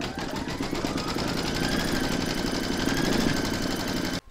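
An embroidery machine stitching a placement outline onto wash-away stabilizer for a reindeer appliqué: a steady, close, rapid mechanical chatter that runs evenly for about four seconds and then stops abruptly.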